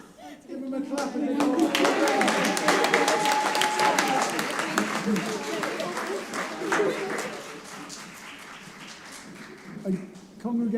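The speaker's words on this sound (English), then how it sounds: "Give them a clap." Audience at the 2021 Dorset Social Worker of the Year Awards claps for a winning team, a dense, sustained round of applause that starts abruptly and gradually thins toward the end, with a voice or two audible beneath it.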